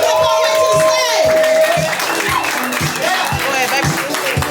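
A poetry slam crowd claps and cheers to welcome a poet to the stage, loud and steady clapping with whoops and shouts mixed in, under a voice speaking over it.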